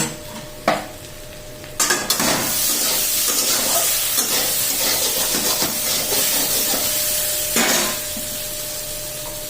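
Fried potatoes hiss and sizzle loudly in a hot pan. A sudden burst of crackling rises as poppy seeds go in, and stirring scrapes continue over the steady fry.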